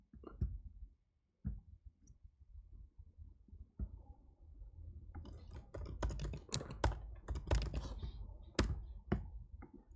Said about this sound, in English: I'm using laptop keyboard and no mouse